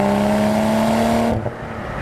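A manual 2025 BMW Z4 M40i convertible cruises at about 90 km/h, its engine holding a steady, even drone under wind rush from inside the cabin, then easing off toward the end.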